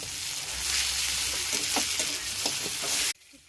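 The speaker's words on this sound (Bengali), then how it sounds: "মশলাটা সবে কষছি" Masala frying in a pan for an egg curry, a loud close sizzle with stirring scrapes that stops abruptly near the end, leaving near silence.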